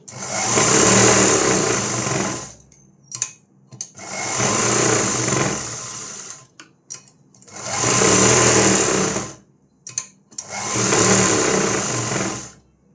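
An electric sewing machine stitches a blouse in four long whirring runs, each separated by a brief pause with small clicks as the fabric is adjusted, loud and close.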